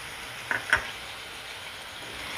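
Tomato puree drops into a pan of onion paste masala that is already frying, landing with two quick soft splats over a steady low sizzle that carries on alone while the Kasuri malai chicken base cooks.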